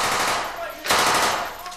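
Rapid machine-gun bursts of blank rounds during urban combat training inside a building, loud and close, dense crackling fire with a sharp surge midway.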